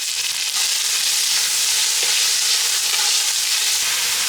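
Chopped onions fry in a pan with a loud, dense, continuous sizzle and faint stirring, close up and without talk.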